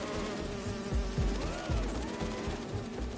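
Buzzing guard drones in Marvel's Spider-Man 2 hum and whine steadily at moderate level, wavering in pitch over a low game backdrop with soft thumping beneath.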